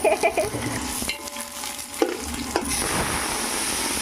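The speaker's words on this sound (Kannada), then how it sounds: "ಈಗ ಆನಿಯನ್ ಆ್ಯಡ್ ಮಾಡ್ಕೊಳ್ಳೋಣ ಚೆನ್ನಾಗಿ ಫ್ರೈ ಆಗಬೇಕು" Loud crackling sizzle of onions frying in hot oil in a tempering with curry leaves for bamboo curry sambar, with a few spoon scrapes and stirring clatters over a constant hiss.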